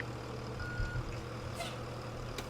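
A bus backup alarm in the Rigs of Rods driving game, shown on a Blue Bird TC2000 school bus, beeps at a high pitch over a steady engine drone.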